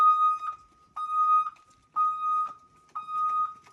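A bus turn signal buzzer beeps four times at an even one-second rhythm, each a clear tonal pulse with a soft click at its end, close and alone with no talk.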